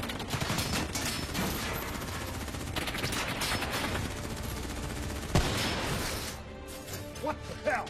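Gunfire in the video game Call of Duty Black Ops 3, dense rattling bursts and shots layered with crashing impacts in a chaotic firefight, with voices shouting amid the battle.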